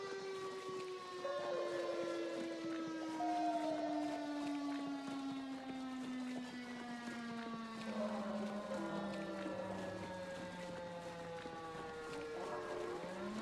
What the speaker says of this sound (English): there's definitely sirens.